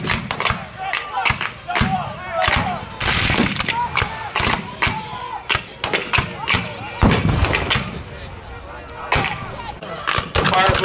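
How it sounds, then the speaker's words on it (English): Confederate infantry at a Battle of Gettysburg reenactment fire musket volleys, many sharp loud cracks in irregular bursts, some overlapping, with a busy outdoor crowd between shots. "Second line of Confederate infantry fires over the shoulder of the first line."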